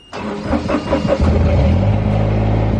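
A car engine cranks briefly with a few stuttering turns, then catches and settles into a steady, close rumbling idle.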